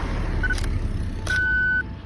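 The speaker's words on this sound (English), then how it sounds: "there's all these cars coming" Cars pass by at night near a harbour, a low rumbling road noise with a couple of brief electronic beeps over it, moderately close.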